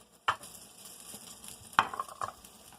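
Fried onions stirred into a vegetable dish frying in a pan: soft, steady sizzling with a few sharp scrapes and clinks of the spoon against the pan, close and moderately loud.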